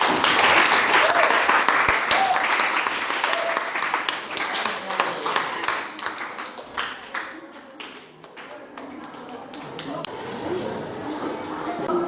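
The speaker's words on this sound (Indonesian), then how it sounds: "Kita berikan aplaus" A room full of people claps loudly and steadily for several seconds, the applause gradually thinning and fading toward the end.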